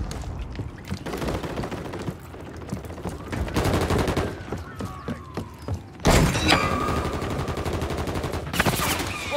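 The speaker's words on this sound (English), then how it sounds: "I'm taking fire!" Call of Duty Modern Warfare 3 gunfire on PS5 crackles in rapid automatic bursts and single cracks, loud and close, with a heavier volley after a brief lull and impacts mixed in.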